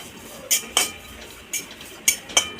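A metal spoon stirs stone flower spice being dry-roasted in a pan over low heat for homemade masala, making a few sharp clinks and scrapes against the pan at uneven intervals, close and clear.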